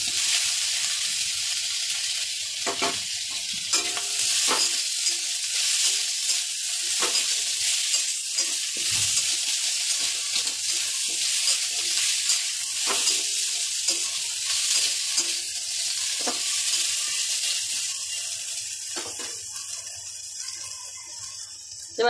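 Chopped tomato and green chili sizzle steadily in a hot pan for an egg and eggplant curry, a continuous bright frying hiss with occasional stirring scrapes, close and fairly loud, no talk.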